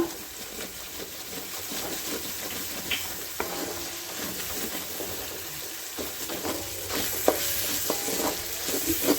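Prawns with parsley, chilli and pepper fry in a pan with sauce, making a continuous sizzle. Frequent utensil scrapes and clinks from stirring run over it.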